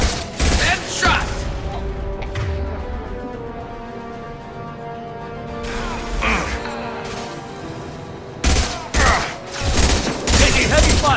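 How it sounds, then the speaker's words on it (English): Heavy gunfire in the Mass Effect 2 video game, with dense bursts of shots at the start and again toward the end and a calmer stretch between, while a voice calls out in the game. "Taking heavy fire!"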